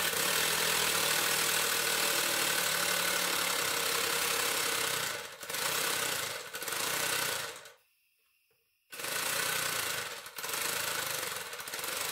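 A small air-powered engine in a model car with a throttle servo runs with a rapid, rattling mechanical chatter, stopping briefly and then restarting, loud and close.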